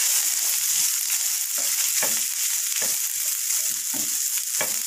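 Grated coconut sautés in ghee for a beaten-rice laddu, a steady close sizzle punctuated by several soft scraping strokes as the mixture is stirred.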